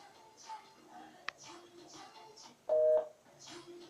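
A beep from an Envent LiveFree 530BT portable Bluetooth speaker signals maximum volume: one loud steady tone lasting about a third of a second, standing out between stretches of background speech.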